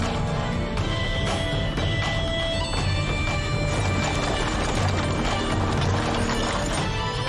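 Large, well-fed horses clip-clop steadily at a run, with hoofbeats continuous and fairly close, punctuated by occasional neighs and whinnies over a dense, busy background.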